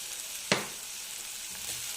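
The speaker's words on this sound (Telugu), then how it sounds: "ఉల్లిపాయలు వేగుతున్నాయండి" Sliced onions frying with salt in a pan for a bitter gourd curry, a steady sizzle with one sharp stir or scrape partway through, close and without talk.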